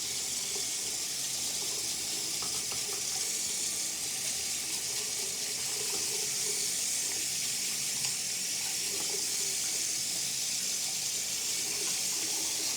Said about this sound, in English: I'm just going to use some warm water, rinse it off.